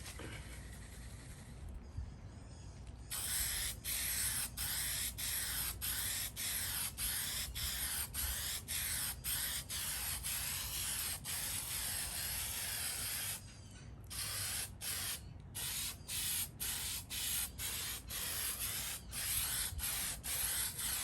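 Spray paint with a hammered finish hisses from an aerosol can onto a 1955 Westinghouse fan, in long close bursts broken by short pauses, with a few quick sprays toward the end.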